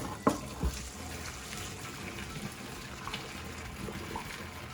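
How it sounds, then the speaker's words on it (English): Hot pasta water poured out of a pot into a strainer at a kitchen sink, a steady watery rush with a couple of clunks near the start, moderately loud and close throughout. "We're now going to strain out our pasta"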